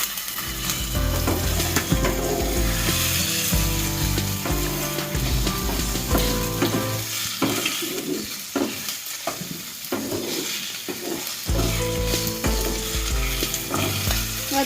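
Meat filling for chicken and cabbage pakoras fries and sizzles loudly in a pan, a steady crackling hiss broken by repeated scraping and stirring clatters, with no voices.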